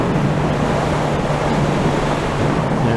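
Choppy water slapping and surging in a steady, dense wash with gusting wind noise, loud and close with no pause.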